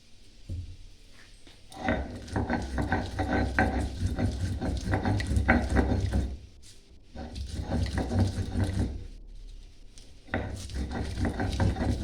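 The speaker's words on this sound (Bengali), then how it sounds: "এগুলো আমি সব শিলেই বাটবো" Jackfruit seeds and other ingredients being ground on a stone slab (shil) for bhorta, a steady rhythmic rubbing and scraping of stone on stone, close and continuous with short pauses.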